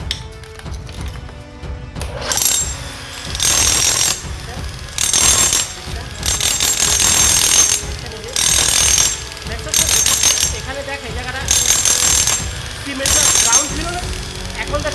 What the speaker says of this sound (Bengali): এখন আপনাকে এই সিমেন্টে যে দেখেন আমি মেশিন চালাইতেছি